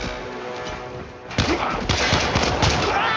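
Gunfire in the Warframe video game sounds as a rapid burst of sharp, loud shots after a quieter lead-in, with overlapping reports and impacts packed close together.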